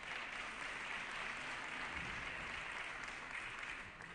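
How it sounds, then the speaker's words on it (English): Sustained applause fills an assembly floor session for an honoree, a dense, even wash of clapping from a large room that holds steady throughout and eases slightly at the end. "Give her a round of applause."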